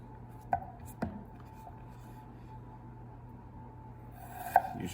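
A knife chops through potatoes on a cutting board, cutting them into squares, with a few sharp, separate knocks spaced out over quiet room background.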